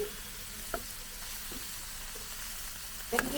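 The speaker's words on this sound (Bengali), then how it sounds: "তো ডালটা ভাজা হচ্ছে আর এই পাশে শাক বসাই দিচ্ছি" Lentils fry in a pan for bhuna khichuri with a steady, close sizzle, broken by a few light clinks of stirring.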